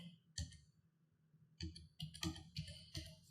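A computer keyboard typing a Java class name, several short bursts of light clicks, close and quiet, with pauses between groups of keystrokes.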